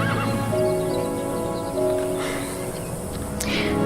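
A horse whinnies in an outdoor setting where horses run free, a long, drawn-out neigh heard at a moderate distance over a steady background of rustling ambience.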